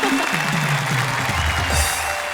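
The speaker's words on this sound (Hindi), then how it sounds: "हम जोरदार तालियों से स्वागत करते हैं प्रवीण शुक्ल" An audience at a televised Hindi poetry show applauds to welcome the poet Praveen Shukla, a steady wash of clapping with a low voice sounding beneath it.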